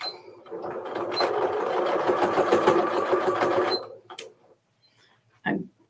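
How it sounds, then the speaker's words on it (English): A sewing machine stitches binding onto a quilt in a steady, continuous run that stops just before the four-second mark, followed by a couple of brief clicks and handling noises. "we're going to put this back in the machine, needle, foot down, needle down"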